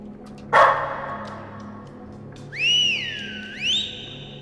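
A dog barks once in the horror video game Lost in Vivo, a sharp loud burst, followed by two rising whistle tones after a pause.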